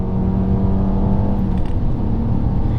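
A naturally aspirated Peugeot 407 Coupé engine revs steadily, a loud low rumbling hum with a faint whir, heard close and without talk.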